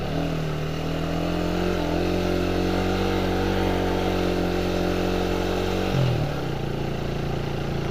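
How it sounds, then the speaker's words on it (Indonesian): A motorcycle engine warming up in the morning on a rural village road idles steadily up close, a low even hum with a steady pitch that dips briefly near the end before settling again. "Sambil kita manasin motor teman-teman."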